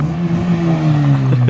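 BMW E36 drift car sliding on a track, its engine droning loud and sustained with the pitch slowly falling, heard close by with no speech.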